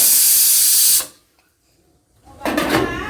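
A pressure cooker whistles loudly with a steady hiss while potatoes boil, cuts off into near silence, then a second, shorter burst of steam hiss returns.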